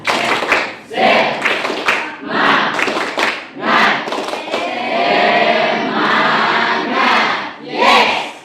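Students in a classroom chant together and do a rhythmic spirit clap, loud bursts of voices and clapping repeating in quick, close, energetic patterns.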